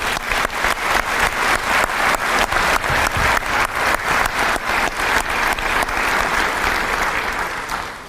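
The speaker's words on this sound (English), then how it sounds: "Let's give them a round of applause." A crowd at a South Dakota National Guard unit activation ceremony claps warmly for family support leaders, a steady, even round of applause that holds strong for several seconds before easing off.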